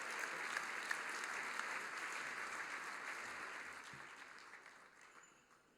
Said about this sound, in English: one more round of applause for those who we celebrated virtually.